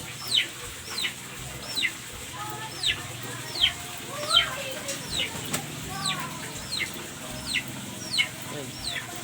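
Chickens cluck in a backyard coop, a steady series of short, close clucks repeating about every half second to second, with soft low background noise beneath.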